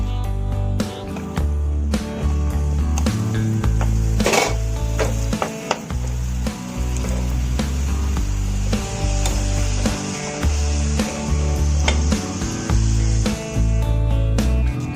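Sun-dried green chilli sandige frying in hot oil, a steady loud sizzle running throughout with repeated clinks and scrapes of a spoon stirring in the pan.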